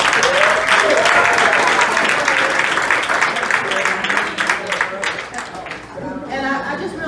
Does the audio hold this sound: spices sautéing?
no